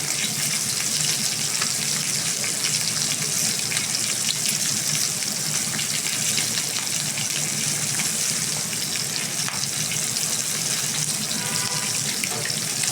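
Pieces of oily, pond-farmed pangas fish fry in hot oil for a tomato fish dish, giving a constant loud, crackling sizzle that runs steadily from start to end with no talking.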